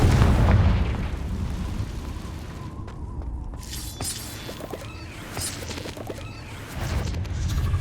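A Confringo blasting spell bursting in the video game Hogwarts Legacy, a loud, shattering explosion at the start that fades into scattered crackles, then another rumbling blast near the end.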